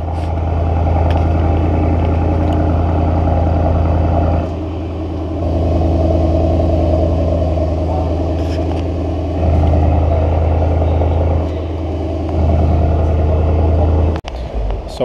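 Mercedes AMG engine idling and revving in a showroom, a loud deep rumble that swells and settles in repeated steps, with a person talking briefly over it.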